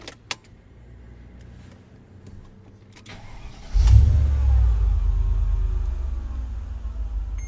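A car with a factory-condition engine being started: keys jangle faintly, a brief crank catches, and the motor settles into a steady close idle rumble that continues to the end.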